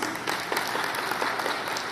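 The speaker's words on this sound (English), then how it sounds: "please let's give them a round of applause" Audience applause for representatives at the PHITEX 2022 tourism launch, a dense, steady wash of crowd clapping heard alone at moderate volume.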